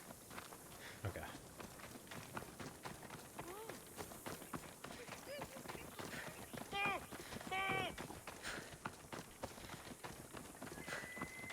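Rapid hoofbeats of a galloping horse in Assassin's Creed Odyssey clatter along with a couple of whinnies, while people talk over the action.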